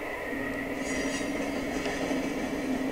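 Train rolling along rails in the simulation game Pro Train Perfect 2, a steady continuous rumble with a faint metallic whine held at even loudness for the whole stretch, no voices.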